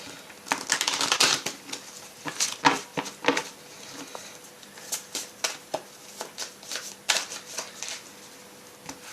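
Tarot cards are shuffled close up in a rapid, uneven flurry of crisp riffling and papery slaps, with no talking.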